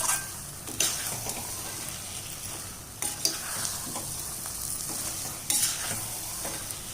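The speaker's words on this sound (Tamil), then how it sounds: "இப்போ நல்லெண்ணெய் ஊற்றி தான் தாளித்து போட போகிறோம்" Sesame oil tempering crackles and sizzles in a pan for onion thokku, a steady hiss with sharp spattering pops every few seconds, close and alone without talk.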